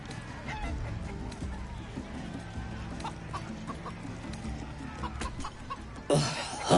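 Chicken clucking in Baldur's Gate 3, soft scattered clucks and scratchy movement over a low game ambience, ending in a sudden louder flurry.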